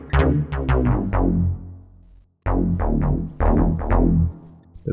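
The Codeine Fiend synthesizer plugin plays two quick runs of notes using its glide setting, the pitch sliding between them, with a short pause in the middle.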